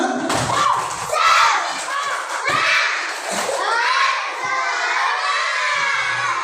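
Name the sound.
schoolchildren doing the tepuk semangat clapping chant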